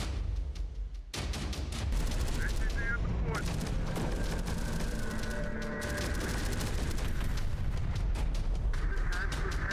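Heavy overlapping gunfire and explosions from the game Terminator: Dark Fate Defiance, a dense, loud, continuous battle din with sharp bursts, starting after a brief quieter moment.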